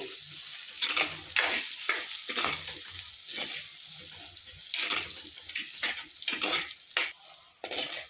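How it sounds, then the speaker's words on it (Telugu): Turmeric, curry leaves and ginger-garlic paste sizzle and fry in a pan while a utensil stirs them. The scraping comes in repeated strokes over a steady hiss, close and moderately loud, with no talking. "అల్లం వెల్లిపాయల పేస్ట్ కూడా మంచిగా మగ్గిపోతూ ఉంది."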